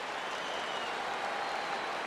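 A stadium crowd of around 34,000 cheers and applauds in the baseball video game MLB The Show 15 as fans rise to their feet, a steady, broad roar with no break.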